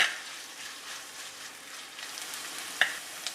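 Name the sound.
onions and green chillies sautéing in oil for Kerala fish molee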